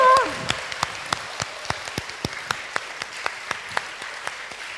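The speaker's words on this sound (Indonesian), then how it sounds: "kasih tepuk tangan sekali lagi dong buat teman-teman dari Matius" Applause from a school audience at an Easter revival service, opening with a loud burst of clapping that quickly thins to scattered, individual claps repeating in an irregular rhythm.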